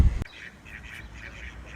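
Ducks quack at Venice Beach in Los Angeles, several soft, fairly distant calls in an uneven run after a brief loud knock at the start, with no one talking.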